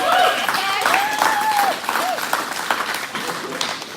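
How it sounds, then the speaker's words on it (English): An audience at a charity auction event claps for the auctioneer being introduced, a steady wash of applause with a voice talking over it. "Big round of applause for Zach, ladies and gentlemen."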